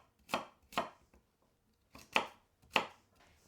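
Two potatoes being chopped with a knife on a board for Finnish hamburger soup: five sharp, close chops arrive in two quick pairs with a pause between, followed by a later single chop. No voices are heard.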